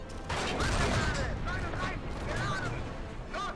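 Tiger H1 tank cannon blasts in Steel Fury Kharkov 1942: a loud, booming report that rolls into a sustained rumble lasting several seconds, with synthetic voices talking over it.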